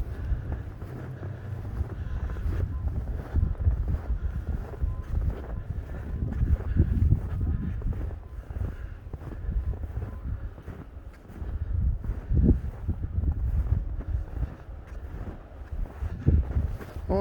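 Wind roars outdoors during a heavy snowstorm, making a loud, continuous gusting rush that buffets the microphone for the whole stretch.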